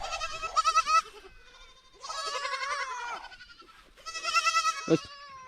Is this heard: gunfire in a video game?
no